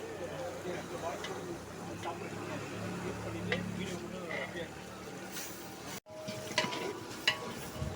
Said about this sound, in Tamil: நல்லா வதங்க விடுறோம்